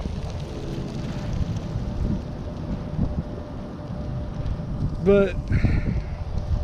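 Wind buffeting a microphone outdoors at a cemetery, a continuous low rumble of gusts throughout while someone speaks over it.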